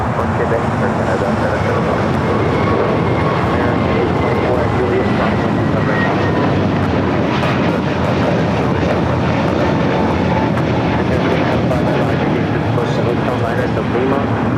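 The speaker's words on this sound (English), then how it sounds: "Also just had an Air Canada 737 MAX 8 just touching down here on the south side." An Air Canada Boeing 737 MAX 8 touching down at LAX, a loud continuous jet roar filling the whole span under a running voice.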